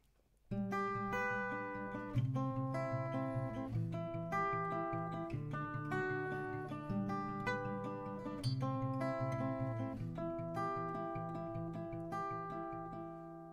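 An acoustic guitar strums a song's chord progression at a brisk song tempo, with rhythmic chords ringing continuously and clearly close by.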